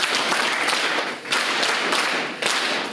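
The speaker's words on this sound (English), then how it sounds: "Can we clap hands for them in a very special way?" Audience clapping hands in unison, a rhythmic pattern of loud clustered claps in repeating bursts with brief dips between them, close and sustained.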